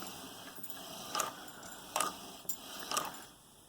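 An Orion row counter on a knitting machine gives a few small, crisp mechanical clicks, about four light ticks close up and faint in a quiet room.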